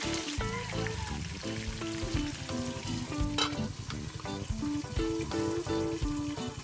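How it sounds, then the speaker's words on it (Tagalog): Tuna slices fry in a pan with a steady, close sizzle and crackle, and music plays loudly over it throughout. "Maaari na nating iprito ang ating mga tuna slices."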